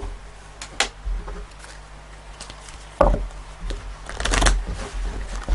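Tarot cards riffled and shuffled close by, with a few soft taps early on, then a dense burst of riffling and card slaps before they are laid down on the table.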